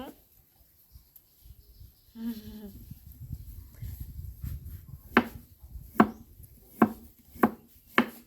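Food being chopped with a knife at a rural Thai home: quiet scraping and a brief voice first, then five sharp, evenly spaced chops close by near the end.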